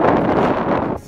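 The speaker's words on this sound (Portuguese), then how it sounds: "E o vento também não tá tão intenso, tá começando a ventar um pouquinho mais agora aqui" Strong wind buffets the microphone beside a fjord in the Faroe Islands, a steady loud roaring rush with gusty swells throughout.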